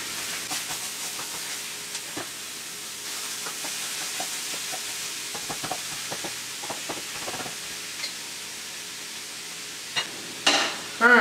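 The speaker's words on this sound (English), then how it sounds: "So we're going to let that hamburger cook down pretty good, and got all the spices and everything in there already." Hamburger meat, already spiced for a shepherd's pie, sizzles steadily in a pan with a constant frying hiss. A utensil stirs and scrapes it in faint, scattered clicks, and a few louder knocks come at the end.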